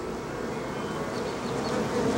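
Honeybees hum in a hive, a dense, continuous buzz that is close and steady throughout, with no voices.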